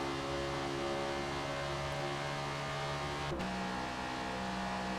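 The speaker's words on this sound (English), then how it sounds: "Into 5th gear" A Chevrolet Camaro engine in the Forza Motorsport racing game holds a steady drone, then drops pitch sharply as it shifts up a gear, continuous and loud with no voice over it.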